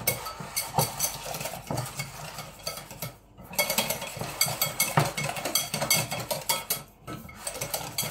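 A whisk beats pastry cream in a bowl, giving a steady, close scraping and clicking with brief pauses, without talk.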